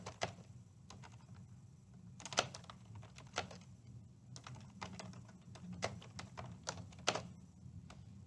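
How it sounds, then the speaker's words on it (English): Quiet typing on a computer keyboard, irregular soft key clicks and taps in short bursts over a low background hum, close and alone. "You can type text in here."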